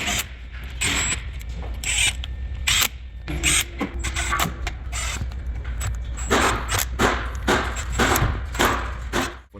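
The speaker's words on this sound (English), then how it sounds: "We're gonna drive all the bolts through, well, at low speed on a crisscross pattern." A power tool drives the differential cover bolts on a Silverado pickup at low speed, giving repeated short whirring and clicking ratchet bursts with small gaps between them, close and fairly loud, with no speech.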